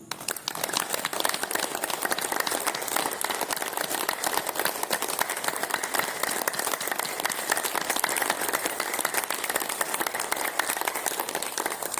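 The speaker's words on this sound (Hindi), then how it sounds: "थोड़ा सा ताली मार लीजिए" A gathered crowd at an acupressure session claps steadily for a long stretch, with dense, even, continuous applause at a moderate distance and no talking over it.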